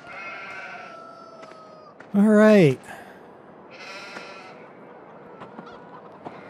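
A sheep in the video game Farming Simulator 2013 gives one loud, wavering bleat lasting under a second. Someone talks briefly around it, and faint game ambience and other short animal calls sit in the background.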